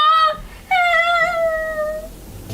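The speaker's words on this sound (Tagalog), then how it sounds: "Pusa lang yun eh." A cat meows twice up close and loud: a brief cry, then after a short pause a longer, drawn-out meow that slowly falls in pitch before trailing off.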